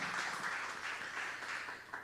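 A church congregation applauding together, a steady, moderately loud wash of clapping that fills the whole moment without any voices over it.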